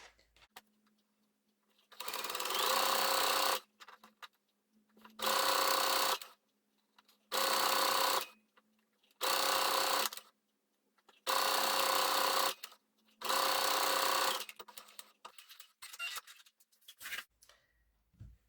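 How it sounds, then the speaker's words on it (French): A sewing machine stitches a bag's lining in six bursts of steady whirring, each lasting one to two seconds and separated by short quiet pauses, close and fairly loud with no talking. "Nous avons fini de coudre la doublure."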